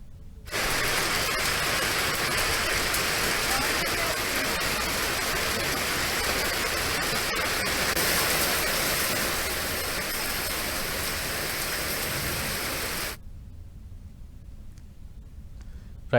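Heavy rain falling with hail during a storm in Hyderabad, Telangana: a dense, steady roar of downpour that holds for about twelve seconds, then drops abruptly to near silence.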